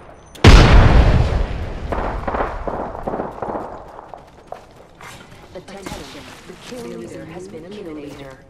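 A frag grenade goes off in the Apex Legends video game as one loud, close blast with a long rumbling decay, followed by voices talking over quieter game sounds.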